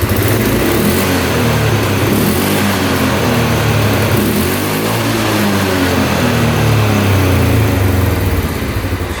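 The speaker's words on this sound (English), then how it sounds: "But now it revs out completely." A repaired ATV engine runs loud and close, with a steady drone whose pitch rises and falls as it revs out throughout. No voices are heard.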